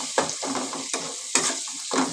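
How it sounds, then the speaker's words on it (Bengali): Taro leaves with turmeric being stirred in a pan, a steady sizzle with rhythmic scraping strokes about every half second, close and moderately loud. "এবার আবার একটুখানি নেড়ে নিচ্ছি"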